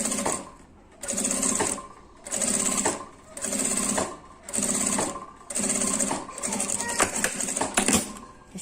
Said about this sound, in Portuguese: E passa a costura.